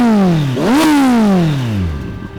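Kawasaki Z800 fitted with an Akrapovic slip-on exhaust revs sharply, engine pitch climbing, dipping, then surging to a peak before dropping back, loud and close with a raspy exhaust tone and no talk.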